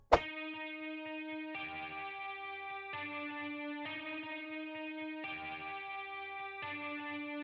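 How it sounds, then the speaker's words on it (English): A distorted, gritty guitar loop in a dark trap melody, passed through a low-pass filter and a compressor, repeating sustained tonal chords at an even pace with no talk over it. "So this guitar basically adds a little more character to the loop."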